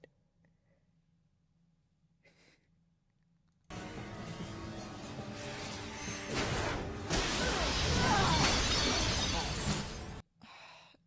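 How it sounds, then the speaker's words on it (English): Glass shatters in a TV drama scene, a sudden loud burst of breaking and crashing shards that swells over several seconds before cutting off, with quiet low background before and after. "Shattering is so good."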